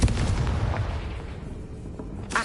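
Explosive blast of the Confringo fire spell in Hogwarts Legacy on PS5, a loud booming burst at the start that rumbles and decays over about two seconds, followed by a sharp smaller pop at the end.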